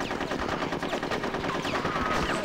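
Rapid automatic gunfire in Conker's Bad Fur Day, in a World War squirrels battle, with fast repeated bursts of shots running continuously at moderate loudness.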